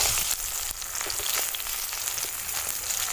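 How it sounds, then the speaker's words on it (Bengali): Brinjal (aubergine) slices frying in oil produce a dense, continuous sizzle at close range, steady in level with a few small crackles and scrapes, no talking. "দেখুন বেগুনগুলো সব লাল লাল করে ভেজে নিয়েছি দেখুন সব ভাজা হয়ে গেছে এবারে তুলে দিচ্ছি"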